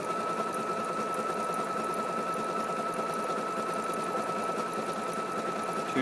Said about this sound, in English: I'm doing a stretch stitch here. It's doing 2 stitches forward, 1 stitch back